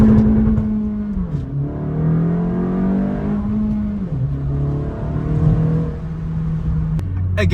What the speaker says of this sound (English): We'll do a quick highway blast back to my area.